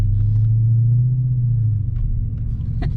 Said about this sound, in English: Park the car by driving around the block.